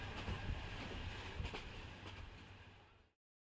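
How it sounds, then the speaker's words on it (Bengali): A cartoon sound effect of a train pulling into a station and stopping, a loud rumbling clatter of wheels and cars that fades a little, then cuts off into silence. "যথাসময়ের খানিক পর ট্রেন এসে থামলো স্টেশনে।"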